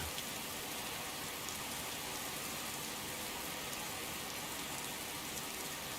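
Steady rain in the video game Skyrim, a constant even hiss of falling drops with no pauses, moderately quiet and alone without any talk.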